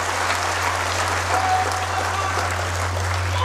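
Crowd applause welcoming a guest at a political gathering in Jaipur, a steady dense wash of clapping heard throughout with a constant low electrical hum underneath.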